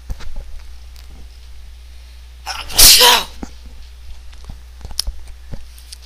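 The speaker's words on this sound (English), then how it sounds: "Excuse me, I have to sneeze." A single loud, sharp sneeze bursts out close by, with a few small clicks and rustles before and after in an otherwise quiet space.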